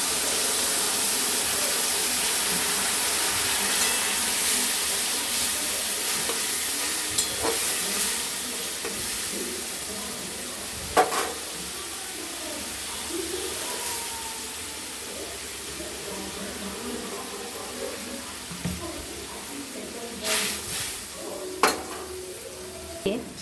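Okra frying in a pan with a little water added, a steady close sizzle and hiss with occasional stirring scrapes and clinks of the utensil.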